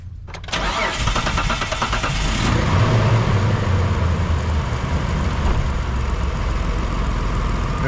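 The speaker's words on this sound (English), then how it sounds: "There we go, engine's running." Mitsubishi Montero engine cranks briefly, catches with a surge, then settles into a loud, steady idle heard up close for several seconds.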